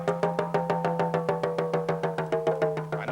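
Talking drum beaten steadily with a stick while squeezed, a quick even run of about a dozen resonant, pitched strikes, close and loud with no voices.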